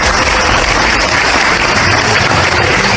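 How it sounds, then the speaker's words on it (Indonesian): An audience claps steadily and loudly throughout, a dense, continuous wash of applause with no pause. "tepuk tangan"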